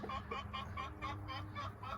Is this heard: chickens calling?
yes